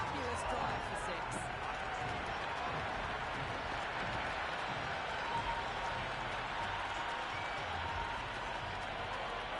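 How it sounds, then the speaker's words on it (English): Stadium crowd at a T20 World Cup cricket match between India and South Africa in Ahmedabad roars and applauds after a six, a dense, steady wash of cheering and clapping lasting throughout. "The crowd are really getting quite raucous."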